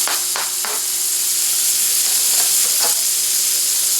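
Onion and red chili pepper mixture sautés in melted butter for fish tacos, a loud, even sizzle and hiss with a few soft knocks from stirring, heard close with no talking.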